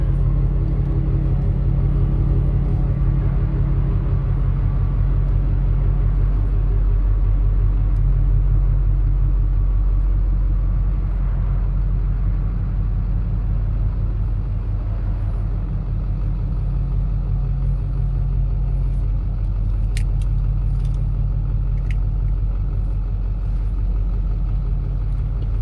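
A Hummer H1 rolls out of a garage for a drive, its engine giving a steady, loud low rumble that holds evenly throughout with no talking.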